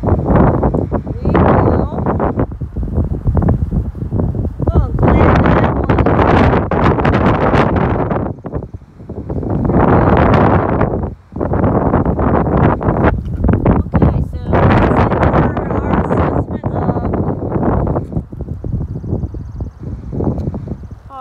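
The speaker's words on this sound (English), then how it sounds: "I'm not sure how bad the wind will be." Strong spring wind gusts outdoors beside beehives, buffeting the microphone in loud, roaring bursts with brief calmer gaps between them.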